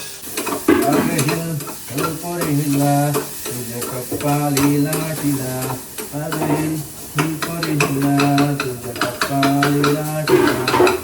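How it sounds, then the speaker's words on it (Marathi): Onions fry and are stirred in a pan, a steady sizzle with scraping stirs running beneath loud tonal, music-like sound that plays throughout. "कांदा थोडा करपेश कांदा थोडासा तर हलवून घेऊया"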